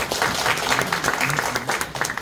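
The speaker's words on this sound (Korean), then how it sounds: "다시 한번 박수 드립니다" A church congregation applauds during a Korean worship service, a dense, steady wash of many hands clapping at moderate volume for a couple of seconds, with some talk mixed in.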